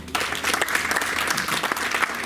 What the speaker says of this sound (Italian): li accogliamo con un grande applauso